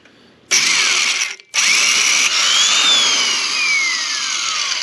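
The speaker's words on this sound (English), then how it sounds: "I'm going to start here and just drill this one out" Loud, high-pitched drilling into the cracked cast iron engine block of a 1939 Caterpillar D4 starts abruptly, cuts out briefly, then resumes with shifting whines as the bit bites and slows.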